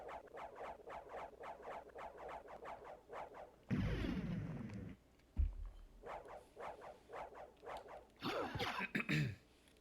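Coughing fits break in over a bouncy, rhythmic chiptune-style soundtrack from Castlevania: Symphony of the Night gameplay; two rough bursts of coughs land mid-clip and near the end, close and loud against the steady music.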